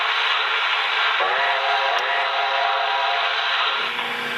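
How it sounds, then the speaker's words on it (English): A model railroad train runs steadily around an oval layout, a loud continuous rumbling and whirring with no pauses or talk. "the train goes out in one direction and it comes back on another set of tracks in another direction"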